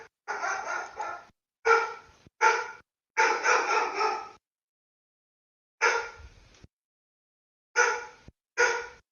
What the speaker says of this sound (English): Dog's barking away at something.